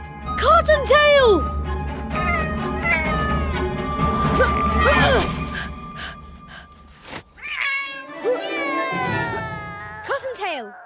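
A cat meows several times, rising and falling cries close by, with people talking over and between the calls and a faint jingle.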